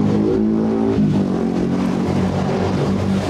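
A modified Yamaha Filano scooter engine runs close by with a steady, loud rough idle and a slight rise in revs, continuous throughout with no talk over it.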